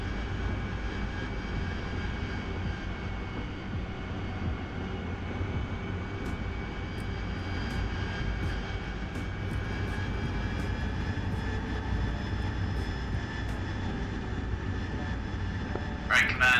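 A jet aircraft engine roars continuously and loudly, holding a steady broadband rumble with a faint high whine from start to finish, with no break in the noise.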